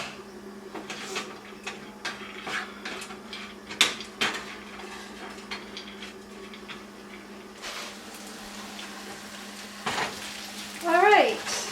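Persian rice toasting in butter in a home cooking pot, giving a faint, steady sizzle and crackle under scattered clinks and taps, with a brief louder bubbling burst near the end.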